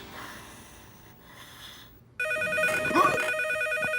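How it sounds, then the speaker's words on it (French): A telephone rings in a French cartoon, the electronic ring starting abruptly after a quiet stretch of faint breathy sounds and sounding loud and close for its last couple of seconds. "Allô? Oh, c'est toi, Chen."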